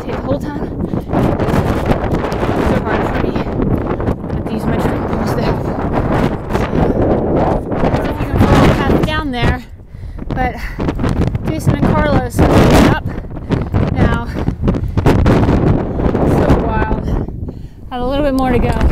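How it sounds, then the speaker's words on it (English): Strong wind on the Appalachian Trail buffets the microphone in a constant roar with gusty rumbles, and a voice speaks intermittently underneath. "Whoa, it was so windy."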